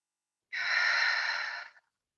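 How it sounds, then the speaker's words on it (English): A single deep exhale through the mouth during a yoga class breathing exercise, one smooth, breathy rush of air lasting just over a second, close and alone against silence. "exhale out through the mouth"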